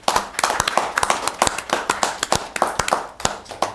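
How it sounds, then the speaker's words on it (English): Small-room applause at a town board meeting for a departing colleague: a handful of people clapping unevenly, with crisp, close, irregular claps and no talk over them. "And let's give her a round of applause."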